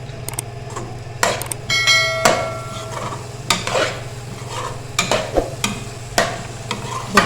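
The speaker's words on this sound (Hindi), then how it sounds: "अब इसको मसाले में हम भूनेंगे।" Boiled mash (urad) dal frying in masala in a pot, a low steady sizzle with repeated scraping and clinking stirs of a metal spoon against the pan, close and unaccompanied by talk.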